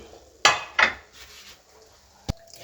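Cooked rice spooned from a plate onto chicken biryani in a pot, two sharp metal spoon-on-pot clanks close together followed by quieter scraping and a final single knock.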